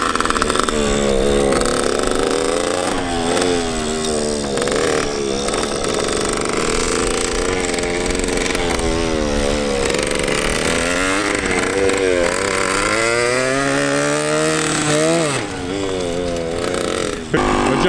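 A 120HP racing go kart engine running rough at a swap meet, a loud, close, raspy buzz that revs up and down unevenly throughout.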